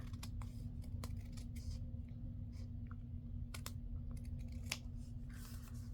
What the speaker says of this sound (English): Now I'm just going to cut this little edge off.